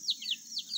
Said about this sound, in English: If I walk away, she'll start chirping.